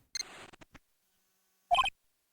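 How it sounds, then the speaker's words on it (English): Short electronic beeps from a transceiver in the Ace Attorney video game: a quick burst of chirps followed by a separate bright two-tone trill a second later, crisp and isolated against silence. "The transceiver."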